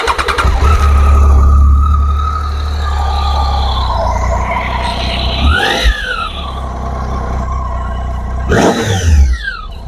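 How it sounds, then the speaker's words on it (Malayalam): A Triumph Tiger 800 XRx motorcycle with an inline three-cylinder engine idles steadily close by, then gets two sharp throttle blips that rise and fall in pitch, the second one near the end. "സോ അതിൻ്റെ എക്സോസ്റ്റ് നോട്ട് എങ്ങനെയുണ്ടെന്ന് കാണാം"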